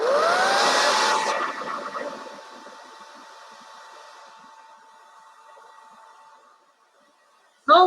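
A hair dryer blows on chalk on a transfer, a loud whooshing roar that eases to a quieter steady hum before cutting off, with a brief voice at the very end.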